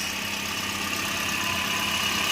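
A Toyota Avanza engine idling during an oil change, a steady, even mechanical hum with constant broadband noise and no variation in loudness, heard alone with no talking.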